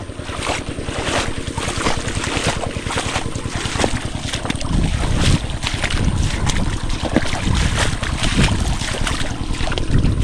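Two engines drive a boat across open water with a loud, continuous rumbling drone, mixed with heavy wind buffeting and the rush of water against the hull throughout.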